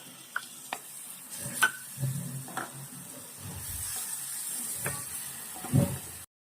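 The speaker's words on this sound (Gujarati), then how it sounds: "હવે એમાં આપણે ટમેટોની પ્યુરી એડ કરી દઈશું." Tomato puree hitting a pan of sautéed onions, sizzling and frying softly with stirring scrapes and a few small clinks, close and fairly quiet, no voices.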